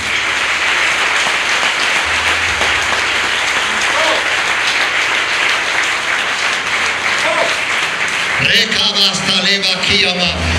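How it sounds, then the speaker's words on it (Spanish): A large church congregation applauds steadily and loudly for several seconds during a service, then a voice speaks over the fading claps. "Dale un fuerte aplauso al Dios viviente."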